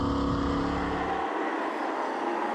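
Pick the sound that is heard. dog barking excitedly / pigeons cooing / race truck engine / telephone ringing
race truck engine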